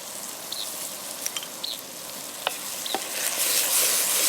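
Brinjal curry for Kathiyawadi ringan nu shaak frying in oil while being stirred, a steady close sizzle broken by a few short scrapes and clinks of the spoon, growing slightly louder toward the end.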